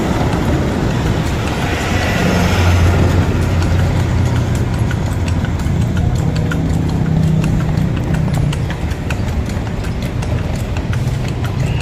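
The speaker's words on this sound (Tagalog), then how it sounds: "Ang bait ng kabayo mo, Kuya." A horse pulling a kalesa carriage through the walled streets of Intramuros in Manila, its hooves clip-clopping steadily and evenly on pavement, close and prominent over faint street background.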